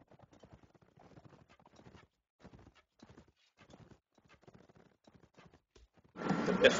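Horses charging in a multiplayer video game, their galloping hooves a faint, rapid clip-clop rhythm that runs steadily before a sudden loud burst of noise at the end.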